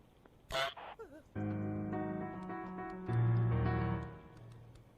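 A cartoon goose in Untitled Goose Game gives a short, bright honk, then another squawk, followed by long sustained musical tones that swell and fade over several seconds.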